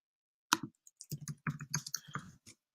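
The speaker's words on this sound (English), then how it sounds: "I'm just going to type Bill Nye." Fingers tap out a short burst of crisp clicks on a computer keyboard, quiet and close, in an uneven rhythm with small pauses between keystrokes, and no voices.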